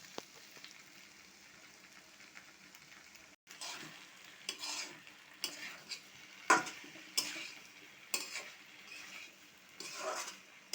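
Prawns stir-fried with boiled taro stolons (kochur loti) in a pan. A soft hiss gives way to repeated close scraping stir strokes and bursts of sizzle, with no talking.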